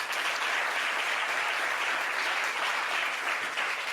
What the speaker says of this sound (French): On va applaudir pour ce jeune homme